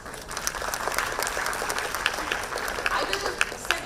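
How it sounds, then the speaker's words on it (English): A conference audience at Parul University claps together for themselves, a dense, sustained patter of many hands with sharper individual claps popping out, filling the hall steadily for several seconds. "we would like everyone to be applauding for themselves"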